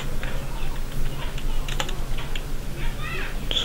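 Code being typed on a computer keyboard, with a steady patter of fairly close keystrokes over a low room hum and some faint background noise.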